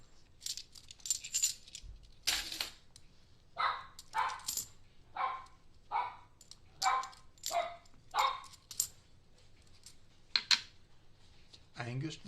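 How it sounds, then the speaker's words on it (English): A security dog named in passing barks in a rapid series of sharp, close barks spread across the moment, with short pauses between bursts and a person speaking briefly nearby. "the security dog, in action."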